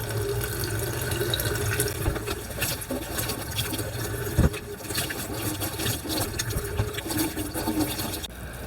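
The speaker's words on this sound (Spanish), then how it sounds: "y las lavan bien para quitarle todas las impurezas con las que las compramos en el mercado" Potatoes being washed by hand under a running kitchen tap, a steady rush of water with splashing and handling noises continuing throughout, no talking.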